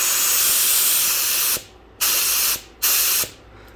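Compressed air hisses through an Italco H3000B HVLP spray gun at about 18 PSI: a loud steady rushing hiss that cuts off, then comes back in two short blasts, each ended by a clicking trigger.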